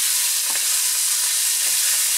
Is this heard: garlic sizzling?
yes